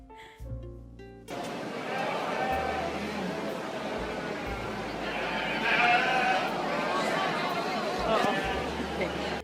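Sheep bleat amid crowd chatter and background bustle at a livestock show arena, the calls rising and falling over continuous noise, with people talking throughout.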